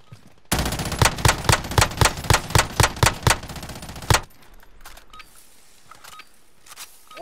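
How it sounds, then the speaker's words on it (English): A fire shotgun blasting in Call of Duty Warzone, about a dozen loud, evenly spaced booming shots in quick succession that stop abruptly, leaving quieter game ambience. "Let's piss everyone off and use the fire shotgun"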